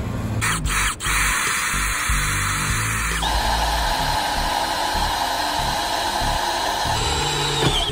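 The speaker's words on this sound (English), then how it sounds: "Just drilled some holes in the corner" A step drill bores holes through the corner of a metal frame being fabricated, giving a loud, steady whirring drone that holds for the full stretch, briefly dipping near the start, then shifting pitch partway through before running on.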